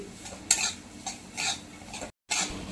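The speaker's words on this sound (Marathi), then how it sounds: "ही चांगली मस्त अशी भाजून घ्यायची, सारखी हलवत राहायची ती" Broken wheat lapshi being stirred while dry-roasting in a pan, a spoon scraping the grains in a few soft, rhythmic sweeps, close and fairly quiet, with a brief gap near the end.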